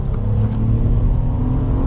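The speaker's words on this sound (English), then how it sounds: "A little second gear roll from real low. Second gear pull." A Nissan Z Nismo pulls hard in second gear from very low revs, a loud, steady engine roar with deep rumble building continuously, close and unbroken, with no voices.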